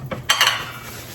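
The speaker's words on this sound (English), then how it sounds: "I'm gonna kind of whisk my egg up first" A quick burst of metal tines clattering against a bowl as an egg is whisked for cornbread batter, a short bright rattle close up, with no voices.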